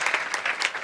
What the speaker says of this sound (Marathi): तुम्ही टाळ्या वाजवलेल्या टाळ्या वाजवल्या